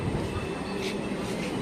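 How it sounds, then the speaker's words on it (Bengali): A local train pulls into a rural station on the line toward Canning, West Bengal, its low rumble and rolling noise steady through a brief stretch, with faint background voices. "আমাদের ট্রেন ঢুকে গেছে, আমরা এইবার ট্রেনে উঠবো।"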